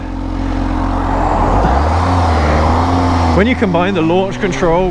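A motorcycle with launch control and a quick shifter accelerates hard. The engine note climbs and steps through a seamless gear change, then someone talks over the continuing engine roar.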